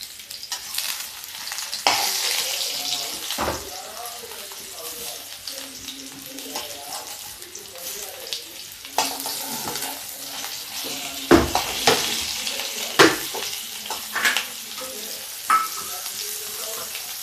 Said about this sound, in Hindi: ऐसे सारे मसाले ऐसे भर के फ्राई कर लीजिए